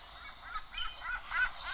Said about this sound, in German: Also hier haben wir einmal die Möwen.